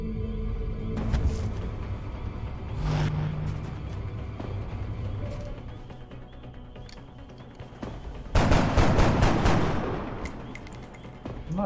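Gunfire in the strategy game XCOM Enemy Within, a few loud isolated reports early on, then a dense, rapid volley of close shots near the end over a low rumbling background.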